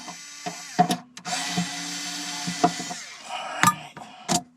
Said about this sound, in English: First thing I gotta do, these 3 screws out.